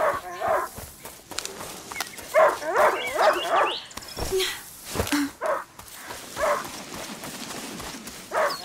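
A hunting dog in the game A Plague Tale: Innocence gives repeated barks and yelps at a moderate distance, coming in uneven bursts over an outdoor ambience with some soft thuds.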